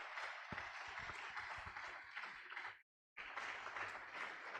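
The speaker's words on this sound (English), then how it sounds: "A round of applause one more time." Audience applause after a medical science lecture on cervical cancer genomics, a steady dense clapping that cuts off briefly in a short gap, then resumes at the same level.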